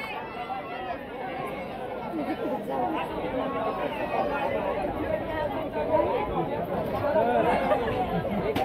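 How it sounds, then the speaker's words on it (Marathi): Steady babble of many voices from a crowd queuing for prasad at the Shri Panchalingi Mahadev temple in Katphal, a continuous dense chatter that swells slightly toward the end. "बघा इकडे प्रसाद घेण्यासाठी भयंकर गर्दी आहे बघा."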